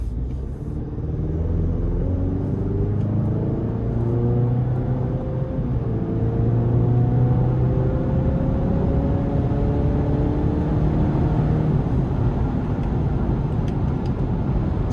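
A GMC Canyon AT4 pickup's 2.7 engine pulls through several rising rev sweeps under acceleration, a steady road rumble and whir heard from inside the cab with no talking.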